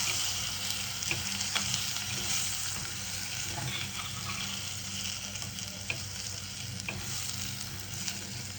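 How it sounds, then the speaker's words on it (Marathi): Drained onions and sprouted moth beans sautéed together in a pot, a constant soft sizzle with scraping stirs of a spoon against the metal, fairly quiet and with no talking. "निथळलेले कांदे घातले, मटकी घातली, मटकी पण धुवून निथळलेली, मोड आलेली मटकी. सगळं छान परतवून घेऊ."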